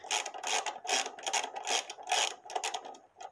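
Rapid ratcheting clicks from a socket wrench loosening the 10mm rocker cover bolts on a push mower engine, coming in quick repeated bursts up close with brief pauses between strokes.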